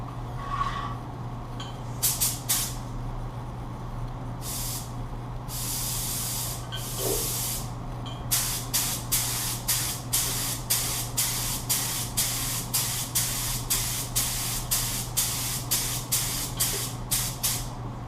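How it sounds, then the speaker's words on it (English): A paint spray gun laying down chrome and sealer coats hisses in short bursts, first a few separate sprays, then a long run of rapid regular pulses close by over a steady low hum. "we're going to shoot the chrome, and we're going to shoot the sealer"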